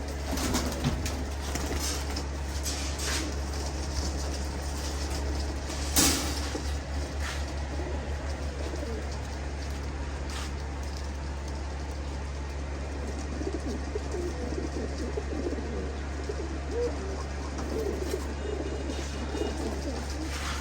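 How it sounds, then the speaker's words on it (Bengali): Pigeons coo repeatedly while being fed, a soft continuous chorus over a steady low hum, with one brief louder knock partway through and no talking. "এই যে এইভাবে একে একে আমি সবগুলি কবুতরকে খাওয়াই দিব।"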